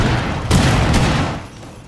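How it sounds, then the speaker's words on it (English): Cluster charge explosions in Rainbow Six Siege: two sharp blasts about half a second apart, each leaving a rumbling tail that fades away. They come through loud and close over steady game noise, with no voices. "Cluster charge live."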